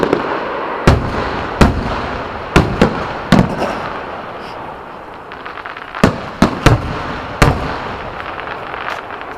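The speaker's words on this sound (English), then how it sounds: "Fireworks at the 420 house, Central City." Night fireworks at a Boomtown 2016 event near Central City, loud booms and crackling bursts going off repeatedly over a constant rumbling crowd and festival background.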